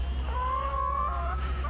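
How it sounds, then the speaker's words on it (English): Farm fowl calling, a drawn-out honking cry that wavers and breaks near the end, heard over a steady low hum with no talking. "We've got chickens, of course."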